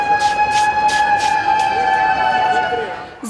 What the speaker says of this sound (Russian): Звучит сирена и речевое оповещение